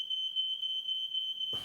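Smoke alarm sounding a single piercing high electronic tone, steady and unbroken for over a second before stopping.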